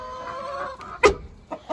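Chickens clucking nearby in a garden tent coop in a short burst, with a louder squawk partway through and a few scattered clucks after, no talking.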